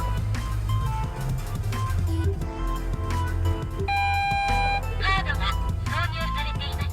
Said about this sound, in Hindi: ये ETC की आवाज़ है,